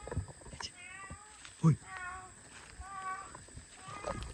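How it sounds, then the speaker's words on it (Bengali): A cat meows repeatedly at night in a village, drawn-out wavering cries spread across the clip with one sharp thump midway, and a voice speaks briefly nearby. "কি ভয়ঙ্কর বিড়াল।"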